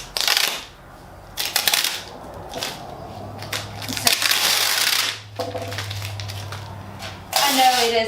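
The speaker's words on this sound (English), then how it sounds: "So my paint is dry enough to remove my vinyl, which is what we're going to do pretty slowly." Vinyl stencil peeled slowly off a painted wooden welcome sign, giving close, loud ripping and crackling in several long bursts separated by short pauses, with a low steady hum underneath.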